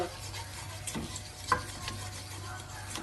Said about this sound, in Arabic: نبقى نحرك خصكم تحركوا بزاف باش ما يسقلكمش